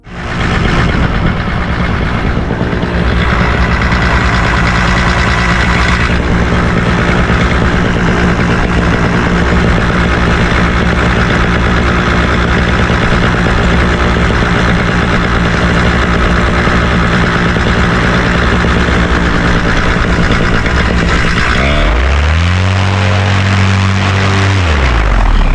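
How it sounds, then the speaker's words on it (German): A paramotor engine for a paragliding launch roars loud and steady at close range for over twenty seconds, its pitch shifting near the end as the throttle changes, with no voices heard. "nächste Clip zeigt den Motorstart von mir"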